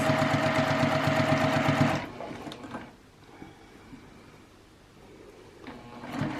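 Domestic sewing machine stitching a quarter-inch seam through two layers of fusible fleece on a reversible tote bag, a loud steady rapid whirr for about two seconds, then stopping, with a brief restart near the end.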